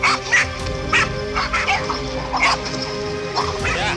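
A pitbull fighting a giant python barks, yelps and whimpers close up. Sharp repeated bursts of distress come every half-second or so over a constant background hum.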